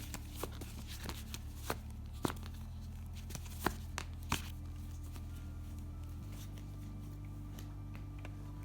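Tarot cards shuffled for a pick-a-card reading, soft close riffling with scattered sharp card snaps over a steady low hum, quiet and without talk.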